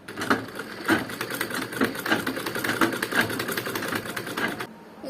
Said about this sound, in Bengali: আমি এখানে সেলাই শুরু করব, কাজটা শুরু করব